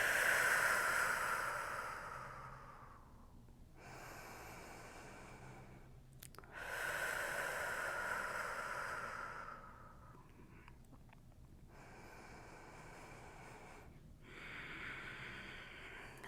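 Slow, deep breaths during Shavasana yoga rest, a few long airy inhales and exhales in an even unhurried rhythm, close and fairly soft with short quiet gaps between them.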